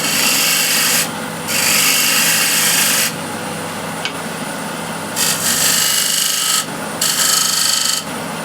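A small ball gouge cutting timber on a woodturning lathe, loud bursts of hissing, rasping shavings alternating with quieter stretches of the spinning lathe, several cuts in a row with no talk.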